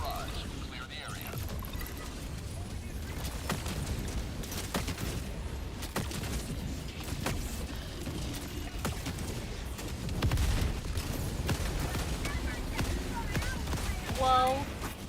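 A barrage is called in during a co-op shooter game, bringing a run of repeated thudding explosions and booms under game effects, with players talking over it throughout.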